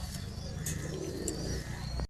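Soft cooing of a pigeon, a few low rounded coos under faint background chirps and light hiss, fairly close but quiet.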